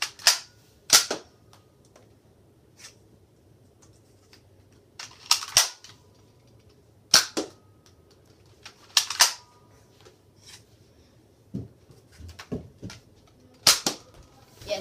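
A Nerf blaster fires foam darts in a series of sharp, close snapping shots with short gaps between them, some in quick pairs, over faint mechanical handling noise and no voices.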